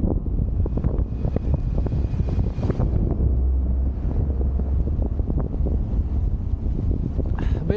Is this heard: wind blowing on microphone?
yes